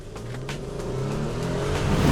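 A Mercedes GLE 400 with a 333 bhp V6 engine revs briefly, a close, steady engine drone that rises slightly in pitch and loudness, with no voices.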